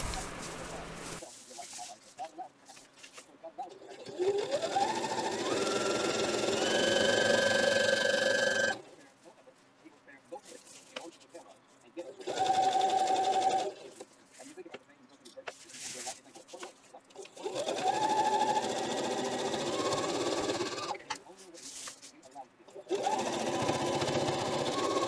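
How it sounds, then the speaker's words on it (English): A sewing machine runs in several bursts, top stitching and back stitching the seams of an insulated tote bag, with steady motor whirring separated by short pauses between passes. "I'm going to go down both these seams with that top stitch, back stitch, at the beginning and at the end."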